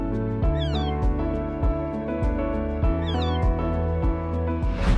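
A kitten, recently recovered from near death, gives a string of loud, close meows, several in quick succession with a rising, whining tone, repeated twice over a few seconds with no talk.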